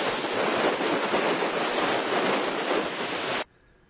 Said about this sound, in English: Quite a lot of water washing over the decks, so things going on.